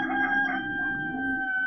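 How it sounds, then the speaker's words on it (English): A neighbour's roosters crow in long, drawn-out cock-a-doodle-doo calls, clear and fairly close, with a faint background hum and no talking. "there goes my neighbour's roosters"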